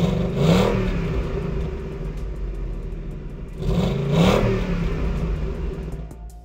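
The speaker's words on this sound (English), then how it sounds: "this is what the stock resonator sounds like again." Car exhaust fitted with the stock resonator, revved twice in two swelling bursts separated by a steady idle, heard close and moderately loud with a smooth, muted tone.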